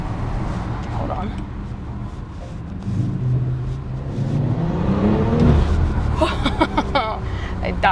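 An Audi RS5 estate with quattro and 825 Nm of torque accelerates hard, its engine note climbing in pitch and swelling to a roar. A person talks over it throughout.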